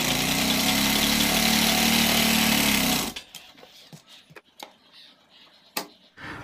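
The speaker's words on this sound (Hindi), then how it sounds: "यहाँ भी हम एक पैर की सिलाई लगाएंगे।" A sewing machine stitches a kurta button placket, running with a loud, steady whir for about three seconds before stopping, followed by faint clicks and handling noises of the fabric.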